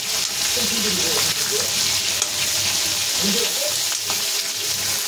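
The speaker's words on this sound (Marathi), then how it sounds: "फुल गॅसवरच ठेवायचं. 2 मिनिटं फ्राय होतं." Stuffed brinjal fries on full heat with turmeric and masala, giving a dense, even sizzle that hisses continuously up close, with faint low clatter underneath.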